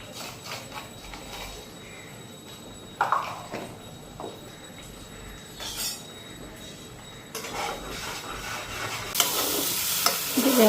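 Spices sizzle in a pan after turmeric and salt go in, with a spoon stirring and scraping now and then and light clinks of metal. The sizzling grows brighter and louder toward the end.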